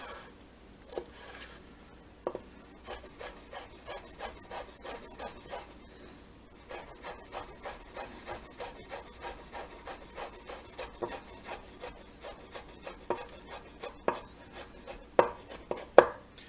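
A knife dices jalapenos on a cutting board in quick, rhythmic runs of close, crisp chops, pausing briefly between bursts, with a few heavier knocks near the end and no talking.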